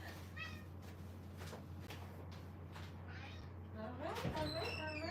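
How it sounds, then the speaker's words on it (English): A house cat about to be let out into the snow gives a few faint meows near the end over a steady low hum, after a quiet stretch. "I'm gonna let my cat out."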